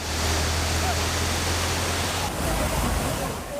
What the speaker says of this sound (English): The water level continued to surge and the current dangerously rapid.